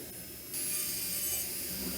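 A pencil polishing rubber works across engraved glass, a steady, close, dry rubbing hiss that starts abruptly and continues evenly, with no talking.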